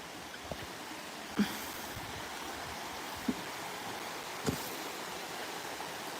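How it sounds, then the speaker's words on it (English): A forest stream flows with a soft, steady wash of water, faint and continuous, broken by a few light thuds or footfalls nearby. "it's water flowing now."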